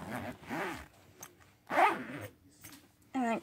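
A zipper closing a packed cheer competition bag, several quick close rasping zips in short bursts, with a person speaking in between.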